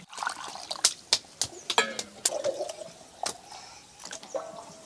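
Water sloshes and splashes as homemade butter is rinsed over and over in a bowl to remove the buttermilk, with irregular pours, drips and dribbles close by and fairly quiet.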